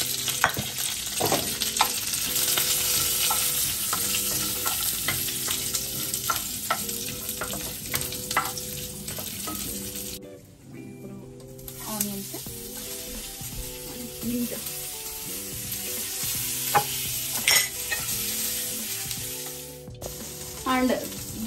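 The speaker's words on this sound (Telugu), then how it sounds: "కొంచెం ఫ్రై అయిన తర్వాత దానిలోనే కరివేపాకు అండ్ క్యాష్యూ నట్స్ కూడా వేస్తున్నాను." Fennel seeds, curry leaves and cashew nuts fry in hot oil with a steady, dense sizzle, broken by stirring scrapes and a brief lull midway, for prawn biryani.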